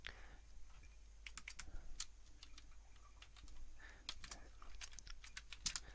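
Code is typed on a computer keyboard, with quick, close bursts of light key clicks in irregular runs and short pauses between them, set against a quiet background hum.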